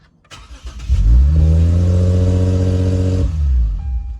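A Lexus car engine cranks and starts, settling into a steady, loud idle with strong low harmonics for about two seconds before shutting off, heard close with no talk.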